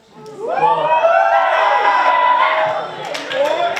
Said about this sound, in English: keep the cheering down to a minimum